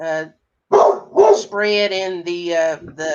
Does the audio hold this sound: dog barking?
yes